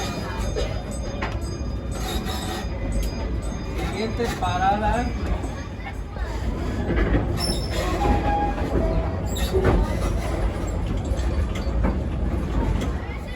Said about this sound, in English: Love a good old train.